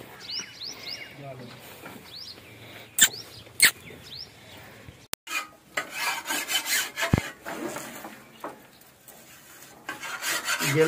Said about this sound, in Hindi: जल्दी जल्दी रेती लगाकर पट्टी कुतर लेते हैं